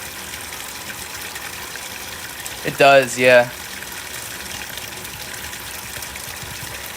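Steady running water fills a tank or tub as an even, continuous rush, with a brief exchange of voices cutting in partway through.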